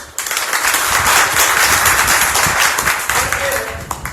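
An audience at a motivational talk claps together, a loud, dense burst of applause that rises quickly and stays steady for several seconds before easing slightly.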